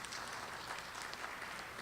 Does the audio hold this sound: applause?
yes